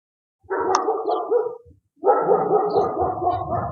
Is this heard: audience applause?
no